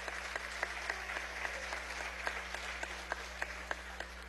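Members of Venezuela's National Assembly applaud during a session, with moderate, even clapping and scattered sharper claps over a constant low electrical hum.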